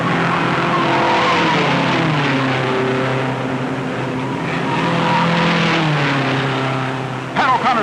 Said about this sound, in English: Pat O'Connor's number 12 roars away from the pole position to the lead.